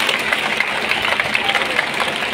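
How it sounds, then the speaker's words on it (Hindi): A large crowd applauds students who set a record by planting 5,68,000 saplings at an Apna Punjab Foundation event, producing a dense, steady wash of clapping that holds at an even, loud level throughout. "मैं चाहना सब तो पहला इस दे लई जोरदार तालियां"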